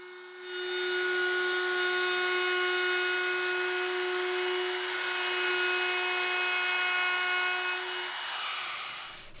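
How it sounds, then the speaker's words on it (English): A router with a flush trim bit trimming the overhanging wooden top of a handmade psalmodikon: a steady high-pitched whine held for several seconds, close and loud, then spinning down, with no talk. "Next, I'll go around it with a flush trim bit to take off the overhanging top."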